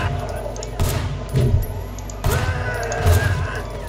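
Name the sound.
gunfire in video game Sleeping Dogs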